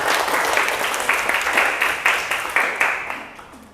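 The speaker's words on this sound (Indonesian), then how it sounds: "Tepuk tangan untuk semuanya." A classroom audience at a polytechnic claps together in a dense, bright burst of applause that stays steady, then thins and fades toward the end.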